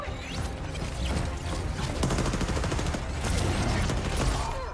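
Loud, continuous crackling bursts and booms of fireworks explosions from an Apex Legends game trailer, dense and rapid like gunfire, filling the whole stretch with no pause.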